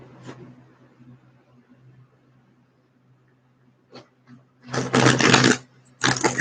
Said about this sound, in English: One more. One more shuffle.